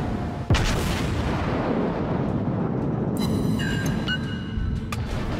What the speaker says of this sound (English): Bring my second battery into play